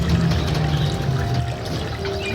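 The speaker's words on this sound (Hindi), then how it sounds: "सुबह सुबह ये है शारदा नदी का नज़ारा" Sharda river water flowing in the morning, a steady close rushing and pouring wash that stays even throughout with no voices.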